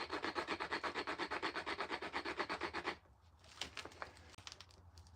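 Stone tool flake sawing through a piece of wood: steady, rhythmic back-and-forth rasping strokes, close and fairly quiet, then stopping into faint scattered handling noises.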